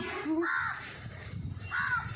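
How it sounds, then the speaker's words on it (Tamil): A crow caws twice in a home garden with potted greens, each call a harsh, clear cry about a second apart, heard alone at moderate distance over quiet background. "காக்கா இங்கே கட்டுது"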